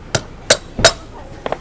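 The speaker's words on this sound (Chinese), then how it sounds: "现在用我们的锤子把轴承给敲进去 轻轻的敲进去。" A hammer lightly taps a new 6201 bearing into an electric bike's front wheel hub, giving three sharp, close metallic knocks about a third of a second apart, then two fainter taps.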